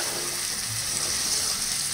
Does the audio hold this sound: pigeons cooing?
no